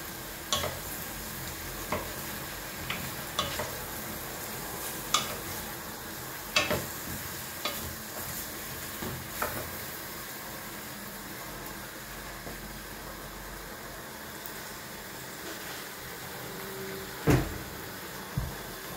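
Mixed vegetables get stirred in a pan, with a soft frying hiss underneath and intermittent scraping and knocking of the utensil against the pan, some louder clacks spaced every few seconds.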